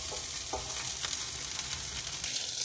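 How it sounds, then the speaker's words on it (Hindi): Mixed vegetables stir-fry over high heat in vegetable oil on a large tawa, a dense steady sizzle with a few faint scraping knocks from stirring, close and continuous with no talking. "तो ये बस मैं इसको अब स्टर फ्राई करने लगी हूँ।"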